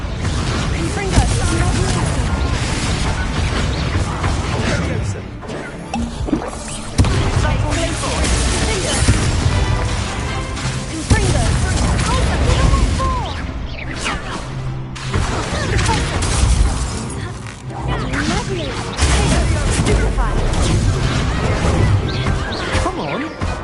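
Hogwarts Legacy combat with the Confringo blasting spell, loud repeated explosive crashes and bangs over dense game music and effects for the whole stretch.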